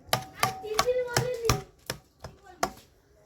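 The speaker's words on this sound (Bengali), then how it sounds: "একটা চামচের সাহায্যে টমেটোগুলো একটু ম্যাশ করে নিচ্ছি" Hot peeled tomatoes are mashed with a spoon, giving about eight sharp, separate knocks of the spoon against the pan or bowl, loud at first and then softer and more spaced, with no talking.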